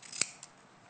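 Scissors trim fabric for an apron's pocket and bib pieces in a sewing demonstration: a single sharp snip near the start, a softer second cut just after, then quiet room tone.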